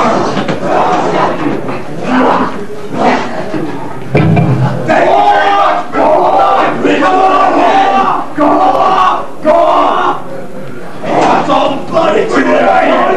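A crowd at a 1993 concert in Freiburg roars and chants in repeated loud bursts with short gaps, close and rhythmic, yelling voices rising and falling together.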